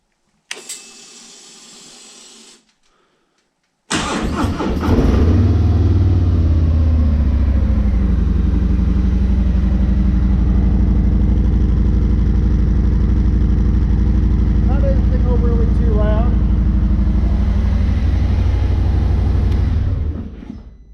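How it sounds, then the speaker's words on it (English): A Road Glide motorcycle with stock exhaust cranks and fires up after a short pause, then settles into a loud, steady low idle that rumbles on evenly until it cuts off. "I'm going to go ahead and fire it up. That way you can hear the stock exhaust."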